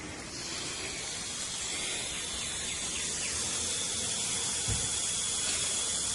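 Water from a garden hose turned on at the spigot to feed a soaker hose irrigation system, a steady rushing hiss that swells slightly after the start and then holds, with a single brief thump near the end.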